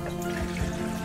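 Water being poured into a blender for a passion fruit smoothie, a soft, continuous trickling splash heard close and faint.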